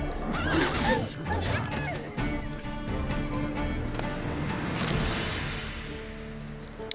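A horse in The Witcher 3 video game neighs and snorts with clattering and crashing around it, fairly loud and close, while a voice talks over parts of it.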